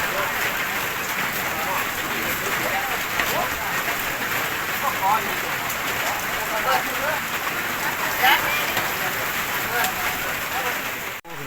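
Light rain falls steadily outdoors in rural Isan, Thailand, near a fishing spot on the Mekong, a continuous soft patter of drops with a few slightly louder taps, moderately close and unbroken for the whole stretch.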